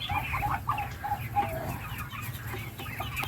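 Several chickens cluck and chatter close by in short, irregular bursts over a low background rumble, with no talking.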